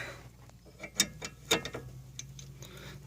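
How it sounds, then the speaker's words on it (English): A 17 mm open-end wrench works a nut on a front control arm of a 2003 Infiniti G35, giving a few quiet metallic clicks and taps amid a low hum, with no talking. "A 17 open end wrench to turn the nut."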